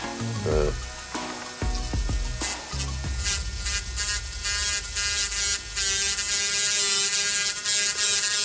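High-pitched whine of a small rotary grinding pen abrading solder mask off a circuit board, a steady buzzing drone with shifting pitch as it presses and lifts, close and fairly loud.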